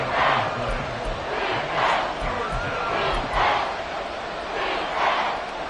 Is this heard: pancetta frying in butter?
no